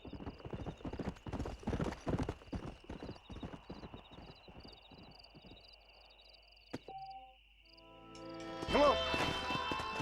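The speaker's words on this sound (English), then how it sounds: "We got some fine horses." Horse hooves clip-clop in the Western video game Red Dead Redemption, a quick run of even hoof strikes that slows and fades over several seconds against steady insect chirring, before other game sounds and a brief whinny come in.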